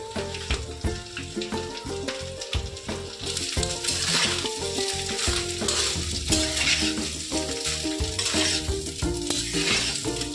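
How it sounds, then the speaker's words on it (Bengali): Fried rice sizzles and is stirred in a pan over a gas flame after sugar, salt and pepper are added. It gives a steady loud frying hiss with repeated scraping stirs throughout. "এবারে গ্যাসের ফ্লেমটা একটু লো করে নাড়তে থাকবেন ভাতটাকে।"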